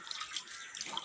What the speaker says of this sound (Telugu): ఇలా వాటర్ వేసి బాగా కడిగేద్దాము